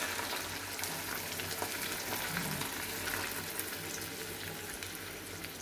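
Milk and condensed milk poured into a pan of sweet Filipino-style spaghetti sauce with pineapple juice, giving a soft steady sizzle and bubbling with light liquid splashing, quiet and close.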